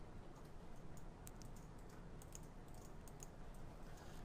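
Faint, quick keystrokes tap on a computer keyboard as an IP gateway address is entered, soft clicks scattered over a steady background hiss with no one talking.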